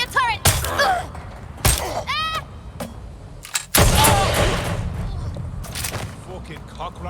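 Watch Dogs Legion gameplay: several loud, sharp gunshot bursts crack out over a busy street mix, with shouting voices between the shots.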